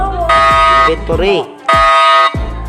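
A bank alarm in the Roblox Brookhaven game blares in two long, loud, buzzing blasts separated by a short gap, with a person talking over and between them.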